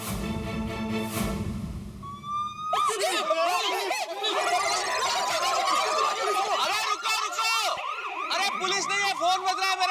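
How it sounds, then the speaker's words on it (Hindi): A police-style siren wails loudly as a phone ringtone, its rising and falling tone cycling repeatedly, with voices reacting in the background. "ओ फोन में पुलिस सायरन का रिंगटोन क्यों रखा?"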